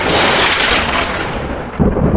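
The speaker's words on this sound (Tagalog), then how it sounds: "matatalim na kidlat ang kumuhit sa kalawakan na sinundan ng nakatutulig na dagundong ng kulog" A loud, close crack of thunder bursts and rolls on in a heavy rumble, ending in a deeper low boom.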